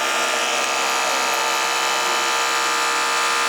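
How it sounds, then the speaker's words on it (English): An electric dog grooming clipper runs continuously during a Yorkie grooming session, a steady, moderately loud motor hum and buzz close by with no pauses and no talking. "the clipper's not really super loud."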